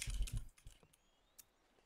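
Computer keyboard keys clatter in a quick burst of close, crisp clicks while a chat command is typed in the Minecraft modpack Prominence 2 RPG, then a few scattered single taps.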